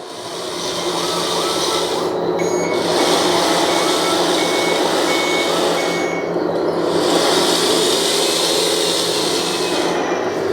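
A 1/20 scale RC C793D mining truck with a hydraulic gooseneck trailer reverses, its steady electronic beeping repeating over a loud continuous whirring motor and gear drone, close up with no talk.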